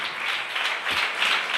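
A church congregation claps hands together during a worship service, a steady dense patter of many hands throughout, moderately loud and without talk.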